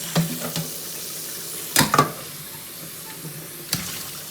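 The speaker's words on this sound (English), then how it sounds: "So just give it a rinse." Tap water runs over a thawed whole raw chicken being rinsed in a kitchen sink, with faint intermittent splashes and a few sharper bursts as it is handled.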